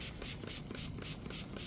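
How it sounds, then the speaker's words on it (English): A handheld spray bottle pumped by hand to mist tanks in a dry indoor setting, giving about six quick, evenly spaced hissing bursts close by, with no talking. "So now I'm just giving it a manual spray."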